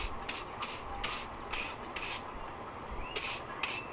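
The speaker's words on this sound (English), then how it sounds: "you take a soft brush and you basically start to brush away inside the crevices" A soft brush sweeps dirt out of the crevices of an aFe Momentum GT intake for a Jeep JL 3.6L V6, producing a series of quick, crisp brushing strokes at an uneven rhythm, close and fairly quiet.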